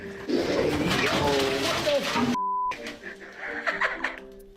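A black vulture calls inside an abandoned house with a dense, raspy hissing and grunting that runs for a couple of seconds, then a brief tone and softer scattered calls, fairly close.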